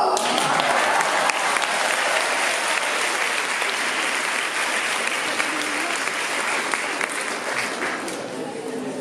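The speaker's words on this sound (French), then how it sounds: "Vous l'applaudissez" Sustained applause from a conference audience at an organic products fair in Besançon, steady dense clapping throughout with crowd murmur underneath.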